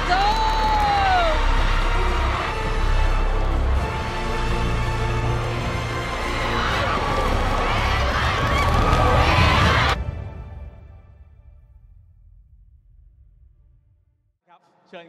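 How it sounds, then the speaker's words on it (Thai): A loud crowd cheers and shouts for the Bacon Time esports team at a tournament, a dense wash of whoops and voices that cuts off abruptly and fades into quiet. "ขอเสียงปรบมือได้ไหมอีกทีกับเบคอนทาม"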